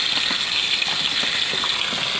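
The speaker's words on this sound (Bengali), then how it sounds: "এবার কড়ার মধ্যে তেল দিয়ে দিয়েছি। এবার মাছগুলোকে ভেজে নেবো লাল লাল করে।" Tarit fish frying in hot oil in a wok, a dense continuous sizzle with a steady hiss, close and loud with no talk over it.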